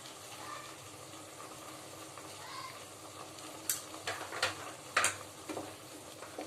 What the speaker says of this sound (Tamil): கறி மசால், கரம் மசால், குழம்பு மிளகாத்தூள் சேர்த்து நல்லா எண்ணெய் பிரிஞ்சு வர வரையும் வதக்கணும்